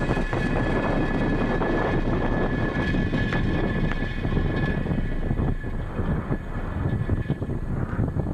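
A SpaceX Falcon 9 rocket's engines roar through liftoff on the Space Development Agency Tranche 0 launch. The sound is a continuous, dense, rumbling crackle at constant loudness with no voices over it.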